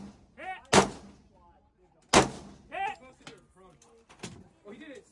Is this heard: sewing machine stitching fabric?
no